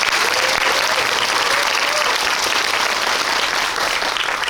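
Audience applause fills a cinema hall at a film talk event, a dense, steady clapping from a sizable crowd sustained throughout without a break.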